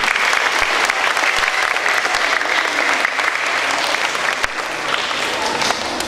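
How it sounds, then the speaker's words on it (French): Children in a French school setting applaud their teachers and directors, a dense, steady wash of many small hands clapping close by, sustained evenly from start to finish. "vous pouvez applaudir vos maîtresses et vos directrices"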